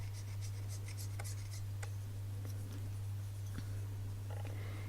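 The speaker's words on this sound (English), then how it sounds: "you just want to lightly scrape, and like I said, you can do this with a dull X-Acto as well." A dull X-Acto knife lightly scrapes the seam of a small plastic Stablemate model horse, giving faint, soft, brief strokes over a steady low electrical hum.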